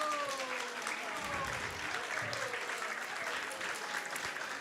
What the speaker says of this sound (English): please give a big round of applause to our...